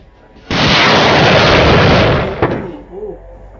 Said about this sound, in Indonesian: Ledakan di bibir pantai dengan sudut baringan 246 derajat